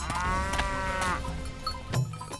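An animated cartoon buffalo gives a long, deep moo with rich harmonics, close and loud, followed by a shorter grunting call, with no talking.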